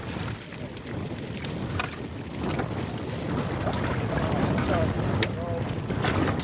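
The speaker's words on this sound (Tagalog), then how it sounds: "napakalakas ng hangin." Strong wind buffets the microphone at sea aboard a fishing boat during net fishing in typhoon weather, a steady broadband roar and rumble lasting throughout with water movement, while a voice talks faintly underneath.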